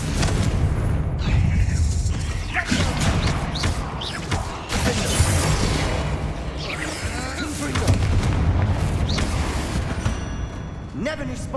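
Confringo fire spell blasts in the Hogwarts Legacy video game, several booming explosive bursts with crackling debris over game music and effects, loud and close, with a voice speaking in between.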